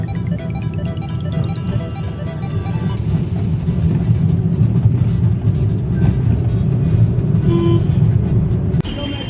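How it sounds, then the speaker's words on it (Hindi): Steady low rumble of idling vehicles in a traffic jam, heard from inside a car stuck in heavy traffic, with continuous engine drone and faint road noise throughout. "यहाँ जाम देखो, कितना ज़्यादा जाम लगा पड़ा है।"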